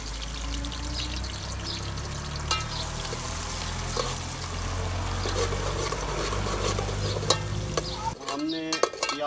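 Onions browning in hot ghee for Pakistani village-style kadhi pakora: a continuous close sizzle and crackle with stirring scrapes and clatter throughout, then a brief clatter and shift near the end, with no voices.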